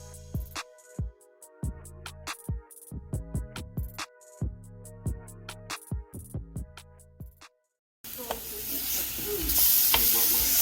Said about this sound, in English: So just checking on the watermelon, and now it's finally charring.